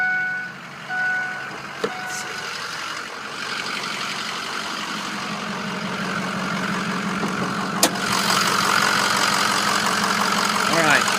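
A 2006 Ford F250 4x4 diesel truck engine idles after starting, with a steady clattering rumble that grows slightly louder, a couple of sharp clicks, and a voice talking over it.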